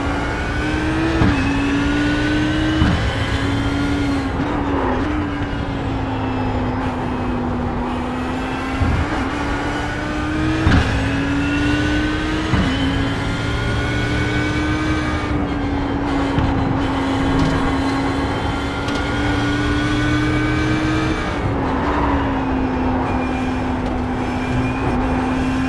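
An Audi Blancpain GT race car engine in the iRacing simulator at Watkins Glen drones steadily and loud throughout, rising and dropping in pitch through repeated gear changes and throttle lifts, with no talk over it.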